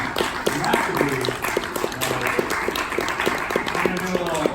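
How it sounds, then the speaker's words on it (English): Audience applause at a live writers' conversation event fills the room with continuous, even clapping from a crowd, steady and moderately loud throughout with a few voices mixed in. "Give a round of applause. Another one for Donovan"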